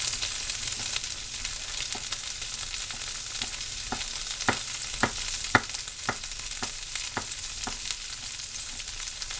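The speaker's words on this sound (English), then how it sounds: "here real quick I'm going to stir that squash." Diced yellow summer squash frying in a pan for a Mexican side dish, a constant fine sizzle broken by a series of soft utensil clicks and scrapes as it is stirred, with no voices.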